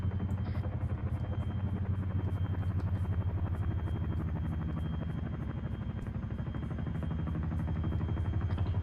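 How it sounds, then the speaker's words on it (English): Steady low rotor rumble of a military helicopter in the ArmA 3 milsim game, a continuous dense droning throb with faint higher whine, constant and close throughout with no talk. "let's figure out the heli and mount up"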